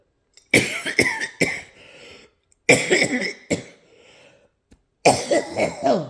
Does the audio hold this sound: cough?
yes